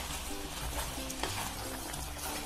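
A spoon stirs sugar syrup for lemon pickle in a pan on the stove, giving a steady, close sizzling bubble with soft scraping throughout, with no voices.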